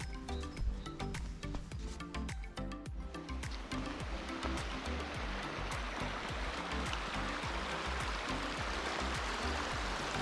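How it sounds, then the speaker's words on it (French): Geroldsbach mountain torrent near Götzens, Tyrol, in winter, a close, loud rushing of water with a steady dense gurgle, after a few seconds of scuffing and clattering near the microphone, no speech. "Nous sommes ici dans la plaine alluviale du torrent Geroldsbach"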